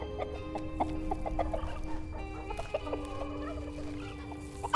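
Chickens cluck in a video game, several birds producing repeated short clucks and squawks at close range over a steady low ambient hum, with no talking.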